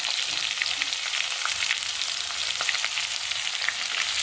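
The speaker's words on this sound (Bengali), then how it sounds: "চলো ভালো করে কষিয়ে নিই।" Cumin and ginger paste, green chili, tomato, turmeric and salt frying in oil in a pan, a steady close sizzle with faint crackles and occasional stirring, no talk.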